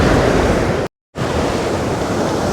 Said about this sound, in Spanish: me voy a recorrer la playa de Canasvieiras como está hoy